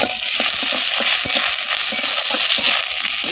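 Chopped raw onion and curry leaves fry loudly in a pan, a dense, bright sizzle with continuous crackling spits that stays steady throughout, no speech.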